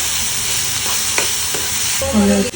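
Carrot halwa with added sugar sizzles in a pan over a low flame while being stirred, a steady close frying hiss with soft scraping strokes.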